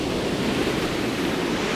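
Ocean waves break and rush steadily along the shore, a loud, continuous wash of surf with no pauses and no voices.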